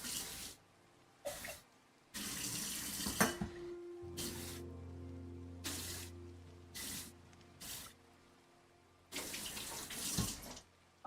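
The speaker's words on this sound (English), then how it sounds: "I'll just pour the rest of that." Leftover liquid poured into a kitchen sink while baking, arriving in several separate bursts of splashing and running water, with a steady low hum between the pours.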